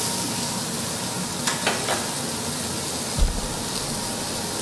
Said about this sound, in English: Once the onions are in, start to throw in all the other veggies.